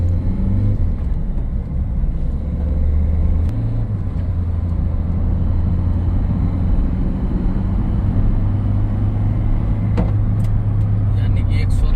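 A Ford Figo Freestyle diesel car driving at speed on the road, a continuous loud low engine and road rumble throughout with a person talking over it.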